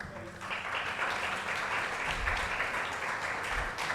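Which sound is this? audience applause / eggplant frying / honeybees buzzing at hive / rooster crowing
audience applause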